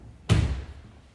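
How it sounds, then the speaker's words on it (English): A huge, heavy sliding door in a modern home moves with one loud, deep thud, which fades into a brief low rumble. No voices are heard. "let's get into these huge sliding doors. They feel very substantial and are very heavy."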